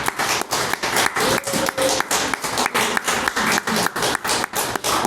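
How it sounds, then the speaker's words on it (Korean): Rhythmic applause in a Sunday church service, with the congregation clapping in strong unison beats about three per second, loud and regular, with a faint voice briefly audible beneath. "우리 박수"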